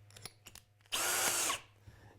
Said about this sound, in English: and you're drilling,